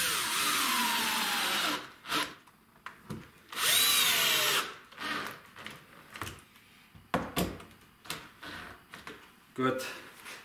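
A power drill whirs in loud bursts, drilling holes in a finger-joint template, running several times with short pauses and clunks between, close by.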